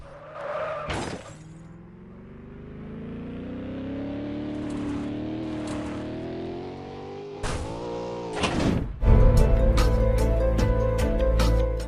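A car drives through the city in the mobile game MadOut2 BigCityOnline, its engine climbing steadily in pitch, broken by sharp crash-like impacts and ending in loud, dense revving.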